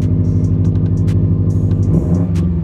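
Subaru WRX STI fitted with a COBB carbon fiber intake, revved in first gear with the clutch in: a steady, loud mid-range engine drone with a small dip in pitch near the end, no talking.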